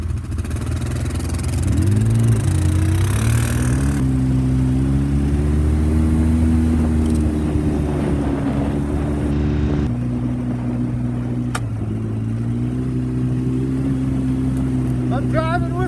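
A car engine drones steadily while driving in Maine. The close, continuous hum rises and falls gently in pitch as the car moves.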